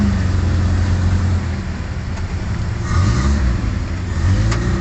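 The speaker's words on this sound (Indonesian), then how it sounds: "Antrian kendaraan" Cars idle and creep forward in a road queue after the Merapi eruption, a steady close engine rumble with occasional revving and passing traffic noise, no talking.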